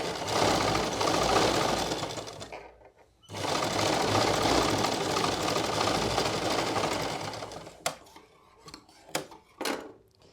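A sewing machine runs along the hem edge of a salwar, buzzing loudly and steadily in two long runs split by a short stop, then falling to scattered clicks and short bursts of handling at the end.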